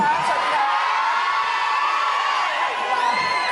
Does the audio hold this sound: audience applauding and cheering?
yes